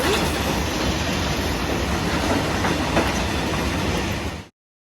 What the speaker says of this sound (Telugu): బయట ఏంటి సౌండ్ అవుతుందని వచ్చేసరికి వెరైటీగా ఉంది ట్రైన్ మీరు చూస్తారని వీడియో కూడా తీసాను